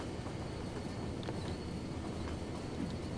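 A train passing in Cities: Skylines, a continuous rumbling rush of wheels and carriages at steady loudness, with no voice.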